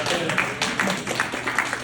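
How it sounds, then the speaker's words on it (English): Audience applause at a live flow board demonstration event, a dense steady patter of many hands clapping at moderate volume throughout, with scattered brighter claps standing out. "let's give him a round of applause"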